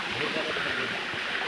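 Damakol Waterfall seen from the top, water pouring down in a steady broadband rush, loud and close, continuous throughout with no break.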